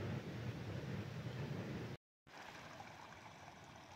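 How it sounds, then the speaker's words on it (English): Freezing water flows in a snowy wilderness stream, a steady broadband rushing hiss that is cut briefly by a short silence midway before continuing. "See, the water's flowing,"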